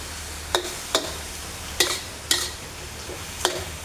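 Pork stir-frying over high heat for pad kaphrao, a soft background sizzle broken by five sharp, separate clanks of a spatula against the pan, close and moderately loud.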